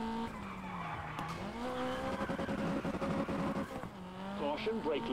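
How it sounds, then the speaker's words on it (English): Rally car tires spin and skid in WRC Generations, a steady squealing whine with revving engine pitch sliding up and down, continuous and close. "Quit spinning the tires"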